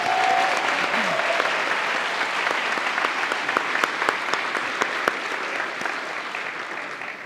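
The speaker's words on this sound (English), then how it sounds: "Let's give them a round of applause." A gala audience gives a round of applause, dense, steady clapping from many hands that carries on for several seconds and thins slightly toward the end, with a few sharper claps standing out and faint voices underneath.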